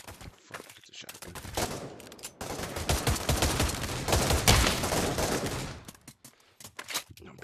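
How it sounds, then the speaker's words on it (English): Rapid gunfire in the VR shooter Pavlov VR, a dense burst of repeated loud shots and blasts over several seconds, with sparser shots at the start and end. "it's a shotgun."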